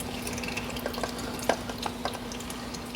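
Engine oil draining from a Porsche 992 GT3 during an oil change, a steady faint trickle of liquid with small splashes into a catch pan, heard close and without talk.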